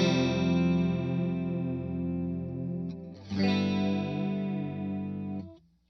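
Electric guitar runs through a TC Electronic SCF Gold chorus pedal with its width turned fully up, sustained chords shimmering and wobbling, a fresh strum midway, then a quick fade; moderately loud, no voices.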